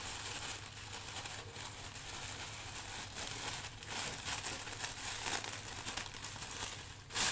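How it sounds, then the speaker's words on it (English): A plastic bag crinkles and rustles steadily at close range while being cut into strips, with continuous crackling and a few sharper crunches throughout. "I'm going to get a plastic bag and I'm going to cut strips"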